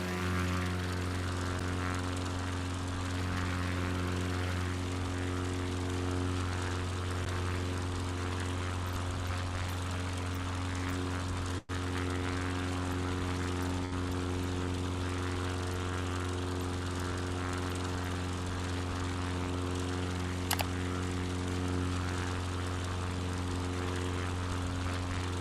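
A propeller airplane engine droning in flight in a video game flight simulator, its steady loud buzzing hum constant throughout, with one brief dropout partway through.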